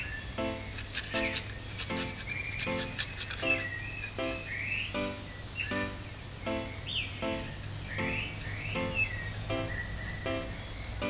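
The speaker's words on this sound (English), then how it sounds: "Mash the garlic to puree." A knife blade presses and scrapes across garlic on a board, mashing it to a puree in a regular rhythm of about a dozen short rubbing strokes, faint and close, with no talk.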